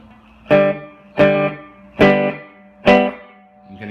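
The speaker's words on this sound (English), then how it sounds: "It's kind of got like a surfy reverb." Silvertone 1484 guitar amplifier with surf-style spring reverb on: four loud strummed chords about a second apart, each ringing out with a splashy, washy reverb tail, no talking.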